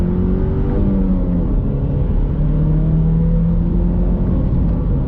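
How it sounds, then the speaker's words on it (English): A 2021 Chevrolet Camaro LS with a smaller engine and 6-speed manual accelerates hard, its engine droning loud and steady from inside the cabin with rising tones, no talking. "On throttle, here we go."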